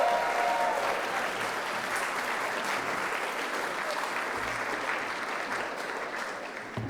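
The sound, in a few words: audience applause at gala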